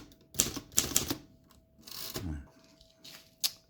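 A vintage manual typewriter, one of a Voss ST24, Hermes 2000 or Torpedo 18, is typed on in close, crisp clacks, with a quick burst of keystrokes, a pause, a softer rustle and a final sharp strike.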